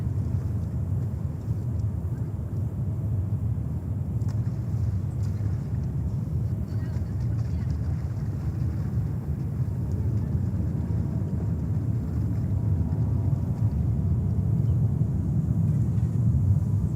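At JFK Airport, a jet airliner's engines produce a steady, heavy low roar that holds level throughout.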